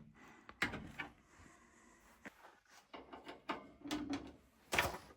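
Metal door panel being fitted onto a VEVOR seven-roller hot dog grill with bun warmer, heard as a string of close, sharp clacks, scrapes and knocks of varying loudness, ending with a few firmer snaps; no talking.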